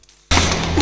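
Brief quiet, then a sudden loud movie gunshot blast that stays harsh and full until the sound cuts off.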